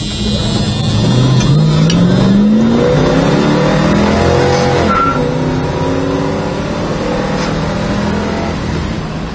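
The 340 V8 of a 1972 Dodge Demon pulls hard under acceleration, its loud engine note climbing steadily through the gear and then holding a strong drone, heard from inside the car.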